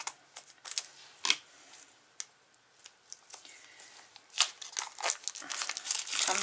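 Someone is cutting open the thin plastic packaging around craft beads, heard close up as faint, irregular crinkles and snips with a few sharper crackles and rustling handling noise between them.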